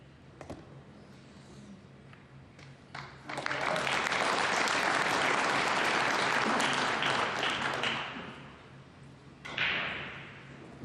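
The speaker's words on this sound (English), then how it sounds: "The crowd applaud" An audience applauds at the 2024 US Open Pool Championship semi-final. A few sharp knocks come first, then clapping swells into loud, full applause that lasts about five seconds, fades, and ends with one last brief burst.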